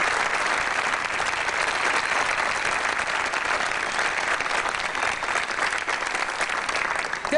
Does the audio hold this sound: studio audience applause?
yes